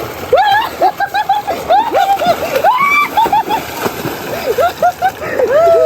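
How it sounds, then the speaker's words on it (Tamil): Water splashes and sloshes repeatedly in irregular bursts as a group bathes, with lively voices talking and calling out over the splashing throughout. "பாருங்க நாங்க குளிச்சிட்டு இருக்கோம்"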